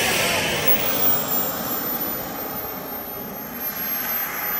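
Model Saab JAS-39 Gripen jet powered by a small turbojet, a steady loud roar with a high whine held throughout, sounding fairly close, with no talking.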